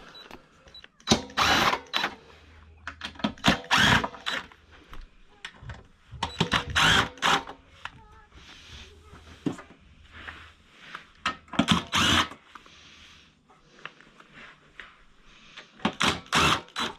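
Cordless power drill removing the side panel screws from a GE commercial dryer, heard as a series of short whirring bursts with pauses and clatter in between, close by and moderately loud.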